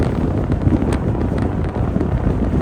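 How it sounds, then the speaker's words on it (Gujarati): Strong wind blows near the bridge at Bharuch on a road journey from Surat, a steady, loud, rough roar of buffeting wind noise with no voices. "પવન છે બહુ, અને બહુ ઠંડી છે"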